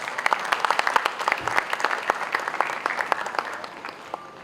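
An audience at a celebrity awards ceremony breaks into lively applause, sharp individual claps popping out of a brisk, fairly close patter that gradually thins toward the end, with no talk over it.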